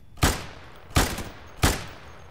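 Three loud, evenly spaced gunshots from penetration rounds in a Half-Life 2 based shooter, each a sharp close crack with a short decaying tail and no talk.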